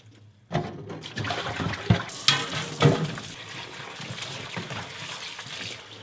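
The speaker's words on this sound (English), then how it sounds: "So wash it this way. I gotta wash it around 3 times." Salted vegetables and fruit for nabak water kimchi are swished and rinsed by hand in a basin of water, giving continuous close sloshing and splashing with a few louder surges.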